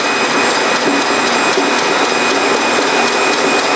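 A bandsaw cuts through needled E-glass laminate with a foam core, giving a steady, loud broadband rasp with a constant high tone, unbroken and close by for the whole stretch.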